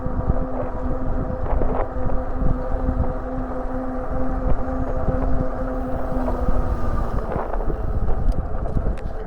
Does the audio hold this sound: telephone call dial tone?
no